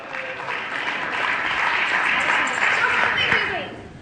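Room of employees at a workplace quiz game giving a round of applause, a dense burst of clapping that swells and fades, with voices mixed in.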